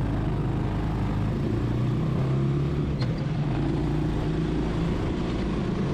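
Small vehicle downshifting and then accelerating, a continuous close engine drone that stays loud and even, with no talk.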